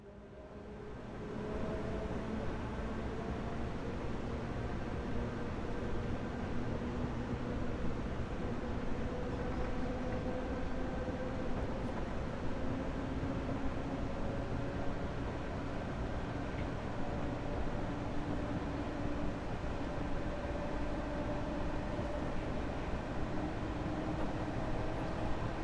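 An M3A MTA electric train on the Harlem line in Train Sim World 6 accelerates with a steady rumble and slowly rising motor whine. The sound is continuous and fairly quiet, with no talking over it.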